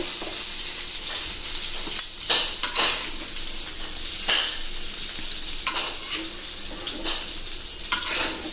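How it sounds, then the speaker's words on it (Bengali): Loud, steady frying of eggplant in oil, a bright crackling sizzle with occasional sharper pops and stirring sounds, close up and without speech. "বেগুনগুলো ভাজা হয়ে গেছে, আমি বেগুনগুলোকে এখন তুলে নেব।"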